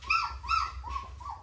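A litter of young puppies, nearly three weeks old, indoors in a warmed room, giving four short, rising-and-falling whimpering calls in steady succession against a low background hum.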